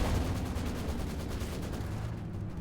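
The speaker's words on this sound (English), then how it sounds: "There's a lot of bullets flying about." Continuous rattling gunfire in a tactical 2v2 tournament battle game, a steady dense stream of rapid shots with a low rumbling backdrop, moderately loud and without talk.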